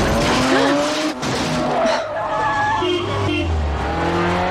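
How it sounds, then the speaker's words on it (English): A car drifts through a movie chase scene with tires squealing in rising and falling tones, engines roaring loudly throughout, with a brief voice mixed in. "drift thing"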